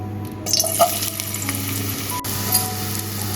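Thinly sliced, washed potatoes fry in hot ghee for wafers, giving a loud, close, continuous sizzle with a bright crackling hiss that holds steady throughout.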